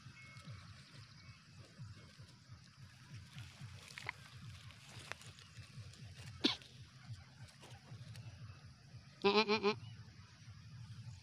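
A human voice mimics a goat's bleat in a short, wavering burst near the end, on a cattle farm, following quieter background murmur and a brief sharp sound.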